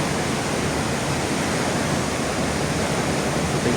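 Water rushes steadily through a river tunnel, a dense, even roar that fills the space without pause.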